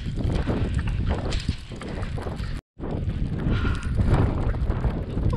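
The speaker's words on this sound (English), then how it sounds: "I have snow and ice blowing straight into my eyes" Winter storm Orlena blows snow and ice in loud, buffeting gusts of wind that batter the microphone close up, broken by a brief dropout midway before the roar resumes; no one speaks.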